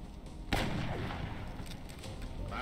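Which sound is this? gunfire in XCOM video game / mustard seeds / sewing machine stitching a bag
gunfire in XCOM video game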